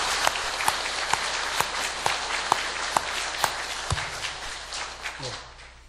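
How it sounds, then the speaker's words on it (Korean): Steady applause from a church congregation giving thanks, a wash of many hands with a few distinct claps standing out, fading slightly toward the end as voices and movement come through. "감사의 박수를 드리겠습니다."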